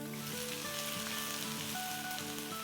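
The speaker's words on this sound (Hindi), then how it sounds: "इसमें अब हम डाल देंगे थोड़ी सी अपनी लाल और हरी मिर्चें। इसको हम सॉटे करेंगे" Ginger with red and green chilies sizzles steadily in hot oil in a karahi, a dense continuous crackle with a faint tonal hum underneath, close and without speech.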